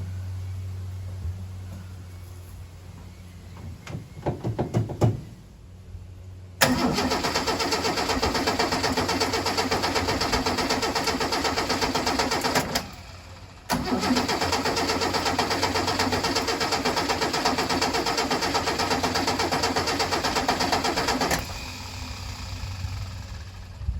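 A Holden Kingswood engine cranks with a few rough turns, then catches into a steady loud idle, cuts out briefly and restarts, running evenly for several seconds before dropping off; no one speaks.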